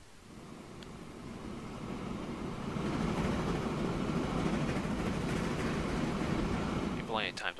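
Freight locomotive accelerating in the Transport Fever video game, a broad rumbling roar that swells and holds steady, loud and continuous, with a brief higher sound near the end.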